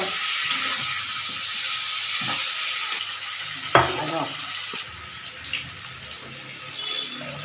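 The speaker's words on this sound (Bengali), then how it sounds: "একটু নাড়ানো চাড়ানো হলো যাতে মানে ওলেরও কাঁচা গন্ধটা চলে যায়" Elephant foot yam pieces, lightly parboiled, frying in a pan and being stirred, a steady hiss of sizzling broken by a few spatula knocks and scrapes, with no speech.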